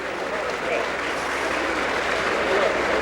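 A golf gallery at the 1984 Players Championship applauds a tee drive, steady sustained clapping from a large crowd heard from a distance for the whole stretch.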